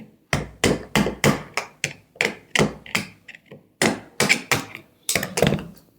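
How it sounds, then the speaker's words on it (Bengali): A hammer strikes a screwdriver held against the laminated core of a transformer being taken apart, a loud close series of sharp metallic taps in quick uneven bursts with short pauses between. "এইভাবে স্ক্রুড্রাইভার দিয়ে ধরে এটা হাতুর মারবেন"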